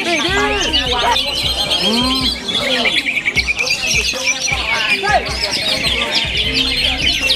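Cucak hijau (green leafbirds) chirp and sing busily at a songbird contest in quick, overlapping trills and tweets, fairly close and lively, with people talking underneath.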